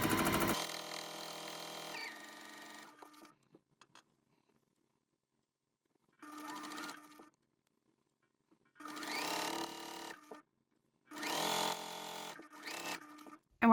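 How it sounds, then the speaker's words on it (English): A sewing machine stitches quilt blocks in several close, steady bursts of whirring motor and needle, separated by silent pauses. "and then sew straight down"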